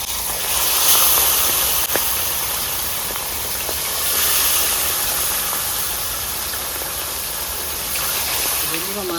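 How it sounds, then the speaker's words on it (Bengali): Small carp fish fry in hot mustard oil in a kadai, giving a loud, continuous sizzling hiss that swells slightly at times and holds steady throughout. "এবার মাছ ভেজে নেবো"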